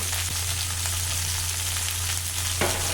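Sliced ivy gourd rounds fry in oil with a continuous, even sizzling hiss, close and moderately loud, with a low steady hum underneath and no talking.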